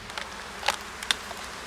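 Many honeybees at an eight-frame hive hum softly and steadily, and a couple of them briefly buzz past closer.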